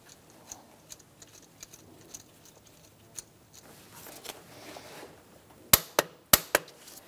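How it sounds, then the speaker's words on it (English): A torque wrench tightens the idler pulley bolt on a 2005–2010 Chrysler 300 5.7L V8 to 40 foot-pounds. Soft, evenly spaced ratchet ticks lead into several sharp, loud clicks close by at the end. "We're going to be torquing this to 40 foot-pounds."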